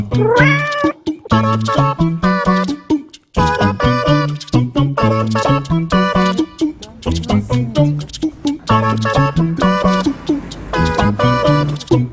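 A small, pedigreed ginger kitten meows loudly and constantly, one high, tonal cry quickly following another with barely a pause across the whole stretch.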